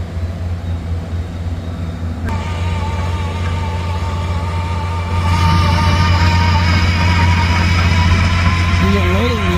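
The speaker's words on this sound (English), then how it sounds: "I hear generators running." Engines droning steadily at an outdoor steam show in Brownsville, Pennsylvania, a continuous low rumble that grows louder partway through, with faint tonal whines on top.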